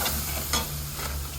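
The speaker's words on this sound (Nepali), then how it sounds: "अब यसलाई चलाउँछौँ, एकचोटि मजाले मिक्स गर्छौँ।" Food is stirred and mixed in a hot pan with soy sauce and spices, a continuous soft sizzle with scraping stirring strokes close by.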